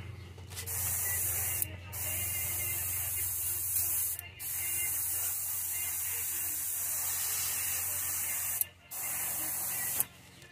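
An airbrush fed by an air compressor sprays paint onto a bluegill fishing lure, a close, steady high hiss broken by several brief pauses, over a low hum.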